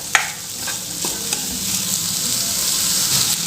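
Tomatoes and soya chunks sizzle and fry steadily in a pan for gravy, with a few sharp clinks of a stirring spoon near the start and a continuous hiss throughout.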